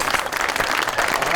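A studio audience on a Pakistani music talk show applauds after a band's folk song, with a brief burst of close, busy clapping that may have voices mixed in.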